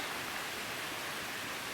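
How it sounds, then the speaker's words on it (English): The low-flow waterfall at Little Lost Cove Creek Falls in Pisgah National Forest, North Carolina, gives a steady, even rushing of falling water with no other sounds. "I finally made it to Little Lost Cove Creek Falls."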